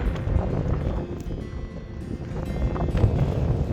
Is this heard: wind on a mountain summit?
yes